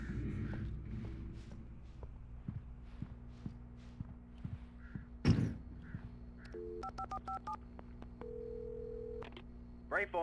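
In the video game Alan Wake, footsteps give way to a rapid series of telephone keypad beeps on a gas station phone, then a steady dial tone hums, with faint game sounds around it.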